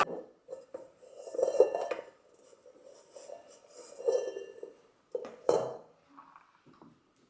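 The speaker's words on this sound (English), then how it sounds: "today I'm lazy, so I'm just going to give it a mix up" A spoon stirs coffee with creamer and almond milk in a cup, quick bursts of ringing clinks against the sides separated by short pauses, close and quiet with no talking.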